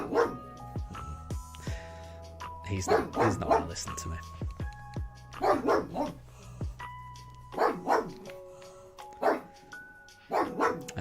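A pet dog barks repeatedly at the neighbours' dogs, loud and close, with yips and whimpers in uneven bursts while a person keeps talking over it.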